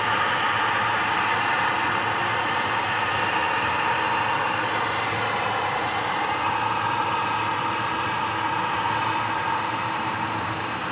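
Jet engines roar steadily at DFW Airport as an Airbus A380 and other airliners move about, a loud, continuous broadband rumble that holds level without a break.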